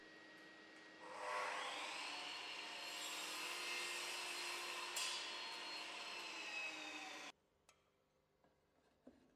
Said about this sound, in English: The process of marking a scribed 90-degree joint begins with an internal mitre cut on the chop saw.